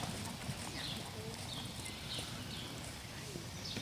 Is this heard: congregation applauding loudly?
no